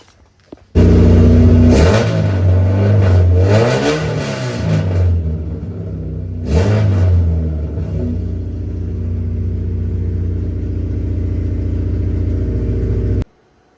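Race car engine fitted with an OEM distributor revving hard from idle, two strong rising throttle blips a few seconds apart, then settling into a steady high idle before cutting off abruptly; close and loud.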